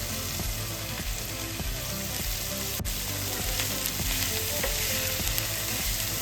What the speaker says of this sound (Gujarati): અને બે મિનિટ માટે આપણે સાતરી લઈશું આ રીતે તેલમાં